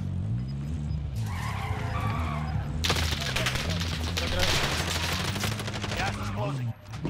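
Car driving and skidding in the Call of Duty Warzone video game, a steady engine drone with tire screech and bursts of gunfire in the mix, loud and continuous throughout.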